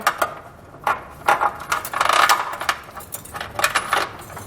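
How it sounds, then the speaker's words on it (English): A carriage bolt and metal hardware are fed up into the frame rail of a 2016 Infiniti Q50, giving close, irregular metallic clinks, scrapes and rattles in short bursts. "We're going to feed our hardware up into the frame rail."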